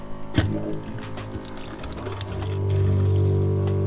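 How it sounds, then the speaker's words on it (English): Water pump kicking on as a sink faucet is opened in a small teardrop camper, a steady low motor hum building under splashing, pouring water that grows fuller and louder toward the end. "Now I'll probably have to open the sink faucet to make it start priming."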